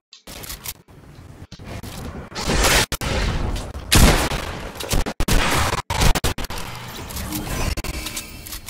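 Gunfire in Fortnite comes in scattered loud bursts and single cracks between quieter stretches of game noise. The shots are close and punchy, with a few heavier booming hits mixed in.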